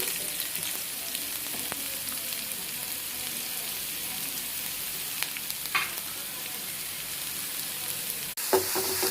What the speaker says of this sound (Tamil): வெங்காயத்துக்கு உப்பு போட்டு நல்லா வதக்கிட்டு நல்லா வதங்கிக்கணும்.